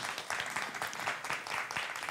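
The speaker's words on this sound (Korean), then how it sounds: "박수 부탁드립니다" Audience applause at a press event for a TV drama premiere, a dense, steady wash of many hands clapping at close range with no one speaking.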